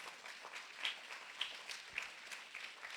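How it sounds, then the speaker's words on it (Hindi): A church congregation clapping at a sermon, a faint, fairly steady patter of many hands with a few louder claps standing out. "ताली बजानी पर सही से बजानी।"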